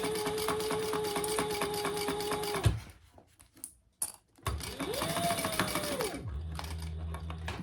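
A sewing machine back stitching through fabric, its motor whirring steadily, stopping briefly, then running again as the stitching reverses, close and moderately loud.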